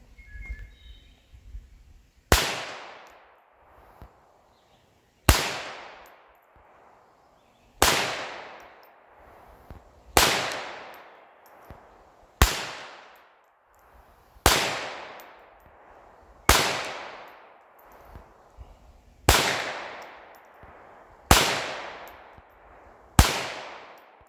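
A .22 pistol fired at clay targets on an outdoor range, ten sharp loud shots spaced a couple of seconds apart, each with a decaying echo tail.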